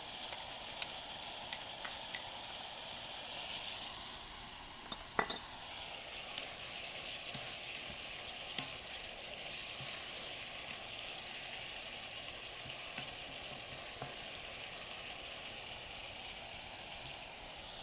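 Cut tomatoes sizzle in a frying pan for Bangladeshi jhal noodles. A soft, steady hiss runs throughout, with a few faint clinks of a utensil on the pan.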